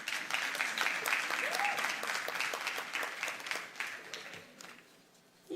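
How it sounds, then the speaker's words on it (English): Conference audience at a professional development institute claps for a speaker being introduced, a fairly quiet, continuous patter of hands that thins out and fades toward the end. "Clap her now."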